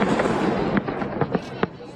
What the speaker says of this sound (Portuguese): um depósito subterrâneo de munição explodiu após uma ofensiva aérea, detonando fogos de artifício